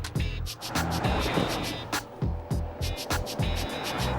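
A £45,000 Porsche Cayenne 4x4 rolls over urban speed humps, giving a run of rapid, heavy thumps against a loud, rushing road and engine noise.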